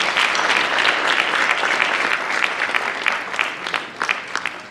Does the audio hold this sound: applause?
yes